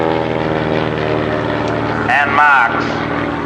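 A Cessna Bird Dog propeller plane passes close overhead with a steady, droning engine hum and a layered buzz that swells slightly near the end, while someone narrates over it.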